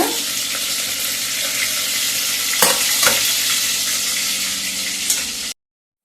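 Close sizzling of chicken frying in a pan with cucumber, onions, green chilies and tomatoes, stirred with a few sharp scraping knocks before the sound cuts off abruptly.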